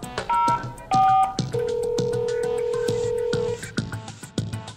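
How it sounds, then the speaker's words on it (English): Telephone dial tones from a Fluke Networks TS test set on speaker: a few short bright beeps, then a long steady tone held for about two seconds, with clicks and faint background noise throughout. "Press the speaker key to hear that dial tone."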